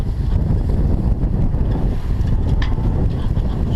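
A sailboat running under genoa in strong wind, with steady wind roar buffeting the microphone and water rushing along the hull, continuous and close, no talking.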